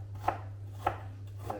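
An onion being chopped with a knife for green tomato chutney: three crisp, close chops spaced evenly about half a second apart over a steady low hum.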